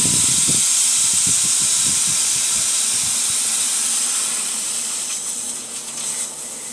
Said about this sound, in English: We're going to go ahead and bleed it out. And again, you just wait for the air to come out.